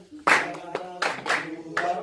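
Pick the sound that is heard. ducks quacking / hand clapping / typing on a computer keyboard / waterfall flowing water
hand clapping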